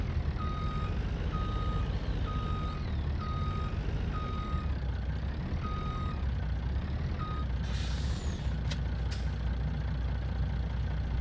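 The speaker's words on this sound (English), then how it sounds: "Back this old truck up." An old truck in Farming Simulator 19 emits steady, evenly spaced reversing beeps over a loud rumbling diesel engine, followed by a sharp hiss of air brakes near the end.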